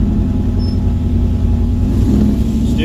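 A Chevrolet 383 V8 with a Turbo 400 transmission, shift kit and high-stall converter runs steadily during a test drive, its deep, loud rumble filling the cabin and holding a constant drone throughout.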